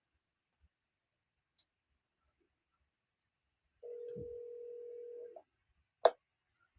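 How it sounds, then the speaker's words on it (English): A phone call being placed: a few faint clicks, then a steady tone of about a second and a half, followed by one short sharp beep, quiet and close with no voices. "I'm going to just get Blue on the phone and introduce you to Blue."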